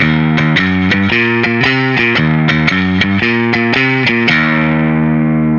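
Distorted electric guitar plays a loud, bouncy shuffled blues run, notes falling in a steady swung rhythm with sharp attacks, alone and up close.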